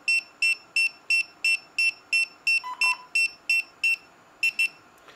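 A DJI Matrice 30 remote controller powering on sounds a steady series of bright, regular electronic beeps, about a dozen evenly spaced, close and clear, with one brief lower tone mixed in partway.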